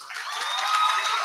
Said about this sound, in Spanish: Ahora recibamos a la profesora Natalia con un fuerte aplauso.